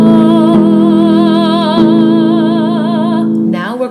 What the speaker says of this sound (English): With vibrato like this.